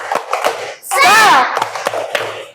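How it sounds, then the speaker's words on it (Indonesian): A class of young children in a second-grade maths lesson claps in rhythm for a spirit cheer: sharp, close claps with a loud group shout in the middle. "Anak-anak, kita tepuk semangat dulu yuk, biar semangat ya. Tepuk semangat."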